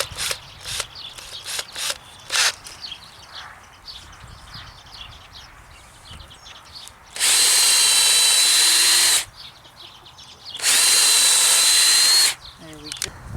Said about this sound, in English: I'm just going to take it step by step and drill the holes in.